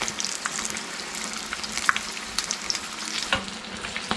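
Chicken-stuffed chilli bajji fries in a small pan of oil, giving a constant crackling sizzle with scattered sharp pops, all without voices.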